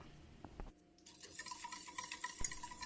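Melted apple pie mixture being stirred in a pan for a homemade apple pie, a quiet, steady scraping and swishing with faint clinks, no talking.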